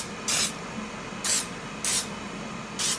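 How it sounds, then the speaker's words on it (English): Non-stick cooking spray hisses onto a baking pan in four short, even bursts, each lasting about a quarter second, close and clear. "I'm just going to take a non-stick spray and spray this pan"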